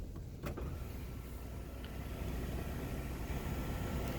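Panoramic sunroof on a 2020 VW Tiguan 2.0T SE R-Line Black Edition closing, heard as a faint, steady electric motor hum with a couple of soft clicks near the start.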